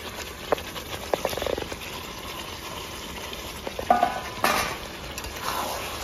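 Cauliflower and potato pieces tipped into a ready vegetarian gravy in a pan, sizzling steadily up close while a spoon stirs and scrapes in irregular bursts, with no talking.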